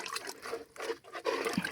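Liquid fertilizer solution for watering newly planted peonies trickles and splashes faintly up close in a garden, a soft uneven pouring with small drips.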